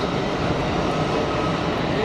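A Saudi Airbus taxiing at Geneva Airport produces a constant broadband engine roar, steady and moderately loud throughout with no breaks.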